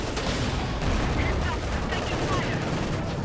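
Dense gunfire and battle noise rattle steadily in Company of Heroes 2, where a T-34 tank fires incendiary rounds; individual cannon shots are not clearly separated within the continuous mid-distance combat din.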